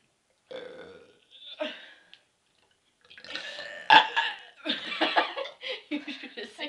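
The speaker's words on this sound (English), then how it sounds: "Is that a burp?" Girls burp several times, starting with a short belch and then a longer throaty one, with giggling and laughter around them.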